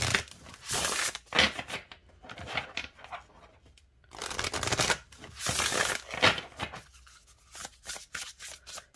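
An oracle card deck is shuffled by hand in repeated crisp, riffling bursts separated by short pauses, the cards snapping and fluttering close to the microphone.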